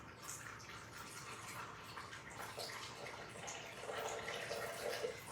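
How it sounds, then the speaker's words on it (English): Water pours steadily into a Thermomix bowl over cashew nuts, a soft continuous trickle that stays faint and even throughout, with no talking. "pull up the water, 150 grams worth of water."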